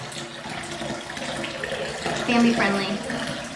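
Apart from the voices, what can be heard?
liquid pouring while making spiced cranberry apple cider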